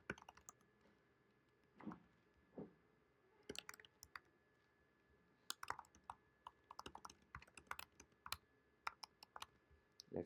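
Quiet, close keystrokes on a computer keyboard come in irregular bursts of taps and clicks, with sparse pauses between short runs of typing.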